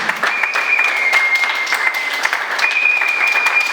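An audience claps at a Congolese wedding ceremony, a loud, sustained round of applause with a faint tone running through it.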